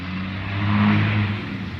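A truck engine revs up, its low rumble swelling to a peak at mid-clip before easing back. The throaty sound is steady and fairly close, with no talk.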